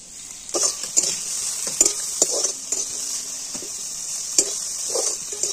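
Finely chopped capsicum fries in hot oil in a kadai and is stirred, bright steady sizzling broken by repeated scraping and clinking of a spoon against the pan.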